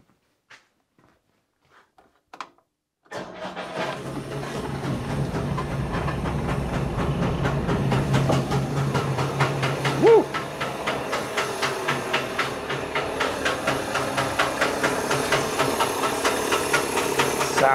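A Trabant P60 two-stroke engine splutters through a few failed attempts, then catches and runs continuously with a rapid, rattling, buzzy idle, close and fairly loud, with a brief rev partway through.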